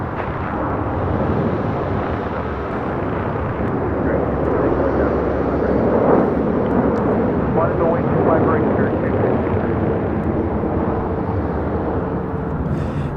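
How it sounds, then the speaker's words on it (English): American Airlines Boeing 737-800 departing LAX, a powerful continuous jet engine roar, loud and steady from start to finish. "This is American Airlines 1292 taking off to Nashville on a 737-800"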